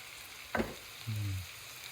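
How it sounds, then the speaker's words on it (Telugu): Onions hit hot chicken in a pan with a brief burst of sizzling frying, followed by a short scrape as they are stirred, close and fairly quiet. "చికెన్కి ఉల్లిపాయలు వేసేసుకుంటున్నాము."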